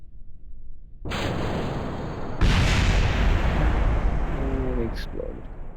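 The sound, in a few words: rocket exploding in the video game Kerbal Space Program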